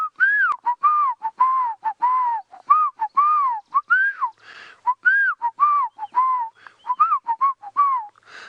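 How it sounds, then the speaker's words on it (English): A black-crowned tchagra on a sunrise safari drive gives a rapid series of clear, melodious whistles that rise and fall. The whistles repeat in quick, rhythmic phrases and sound fairly close. "The black-crowned shagra, you'll often hear them,"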